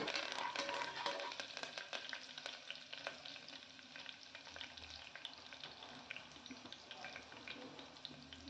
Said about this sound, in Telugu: కొద్దిగా కరివేపాకు వేసి ఆనియన్స్ బ్రౌన్ కలర్ వచ్చేంత వరకు వేయించుకోవాలి